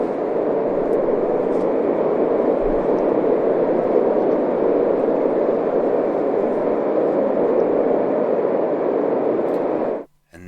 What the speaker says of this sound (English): that was the sound of the ocean you can hear by putting your ear up to a shell